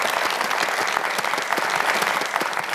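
A studio audience at a television special applauds a singer, brisk and dense clapping from many hands, loud and continuous throughout.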